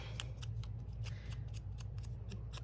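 Scissors fussy-cut paper for a craft in a quick, even run of small snips, faint and close, with a low hum underneath.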